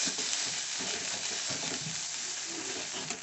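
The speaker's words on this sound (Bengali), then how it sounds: "আদা আর রসুনটাকে পেঁয়াজের সঙ্গে আমি খুব ভালোভাবে কষিয়ে নিয়েছি" Onion stir-frying with ginger and garlic paste in a pan for a Bengali pomfret curry. The close, continuous sizzle is broken by scraping stir strokes, and no one speaks.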